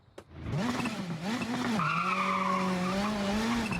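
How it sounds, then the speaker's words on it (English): A rally car in Assetto Corsa Rally squeals its tires in a long, loud, wavering screech that rises and falls for several seconds, heard close and almost alone. "Oh, the tire squeal."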